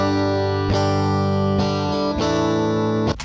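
Distorted electric guitar chords ring out with a stereo widening effect, several sustained strums struck in turn, thick and buzzing, loud and alone without any talking.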